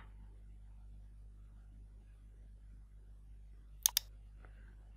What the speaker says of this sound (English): Just right click on it and click on restart.